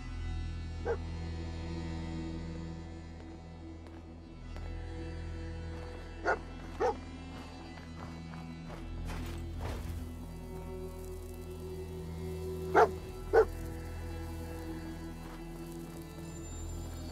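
A dog in a video game gives a handful of sparse short barks and yips, spread out and fairly faint over a steady low ambient game drone.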